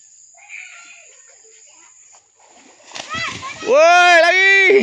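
Village children jump into water, making a brief splash among excited shouting and a loud high-pitched child's scream that follows close by.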